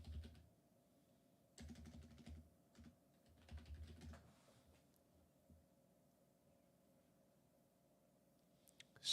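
Computer keyboard keys clatter in short, quiet bursts of quick tapping separated by pauses, faint and close, followed by a long stretch of near silence and a final louder click.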